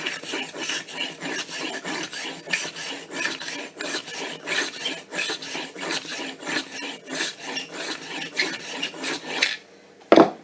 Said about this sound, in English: I've got a little knife sharpener. So all I'm going to do is go back and forth 20 times.